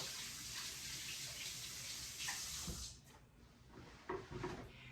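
Running tap water pours into a sink while hands are rinsed for a few seconds, a steady close hiss that stops partway, followed by a few soft knocks and handling sounds.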